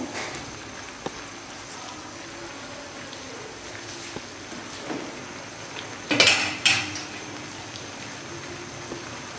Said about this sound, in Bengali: সব কিছুর সঙ্গে মাশরুমটাকে সুন্দরভাবে মিশিয়ে দেব।